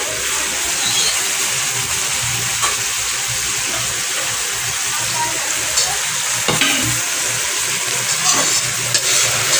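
Tangra fish frying in a pan with eggplant and potato, a steady sizzle running throughout with occasional stirring scrapes, fairly close and even in level, no talk.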